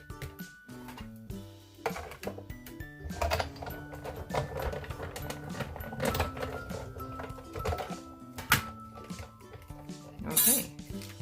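A Big Shot die-cutting and embossing machine is cranked through stitched label dies. Dense mechanical clicking and clunking rolls on close by for about eleven seconds, with no talking.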